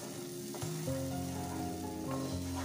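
Ground onion paste frying in a pan with an even, close sizzle and a brief stir, steady throughout with no talking.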